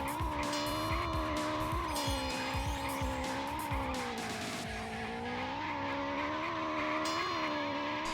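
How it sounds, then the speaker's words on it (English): A video game car engine drones with a warbling, growl-like tone that rises and falls in repeated waves, loud and continuous throughout with no talk over it. "The engine noise sounding like a cat growling is sending me?"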